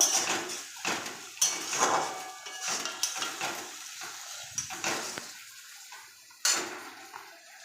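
Ginger paste being stirred into chicken in a cooking pan, with intermittent metal clinks and scrapes of a utensil against the pan and soft sizzling between them.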